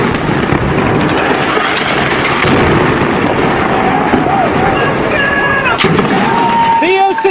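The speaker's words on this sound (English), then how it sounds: "The AC-130 gunship and both of the F-16s completely emptied all of their weapons, leveling multiple buildings inside the town" Heavy weapons fire from an AC-130 gunship and F-16 jets on a town, a dense, loud, continuous roar of blasts and gunfire with whistling tones near the end.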